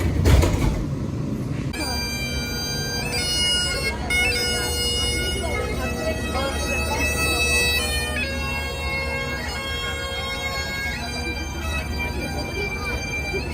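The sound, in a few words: riding on a tram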